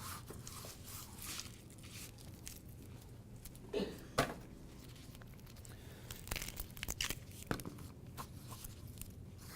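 Crisp tearing and crinkling as papery outer layers are peeled off a vegetable, in a few short close bursts over faint background hum, with no speech.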